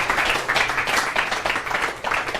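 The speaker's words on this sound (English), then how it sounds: "Yeah, round of applause, round of applause." An audience gives a round of applause at a crypto trading tournament event: a burst of dense, steady clapping from a crowd, moderately loud and continuous throughout.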